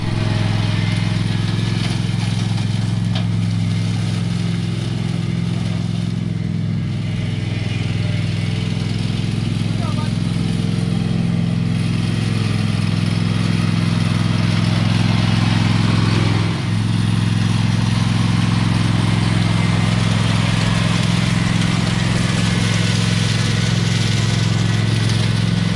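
Agri-Fab setup with a lawn tractor engine running steadily throughout, a loud continuous low mechanical drone with clatter, close by, with speech-like noise over it.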